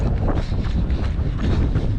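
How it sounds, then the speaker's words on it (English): Strong wind buffets the microphone outdoors on a rainy early morning, a loud continuous low rumble with gusty swells and no speech. "I don't even know if you guys could hear me, but it's freaking windy"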